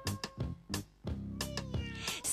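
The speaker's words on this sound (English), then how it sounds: "C, cats can cuddle up." A cat meows several times in short separate cries, then gives a longer drawn-out yowl, close and clear with no talking.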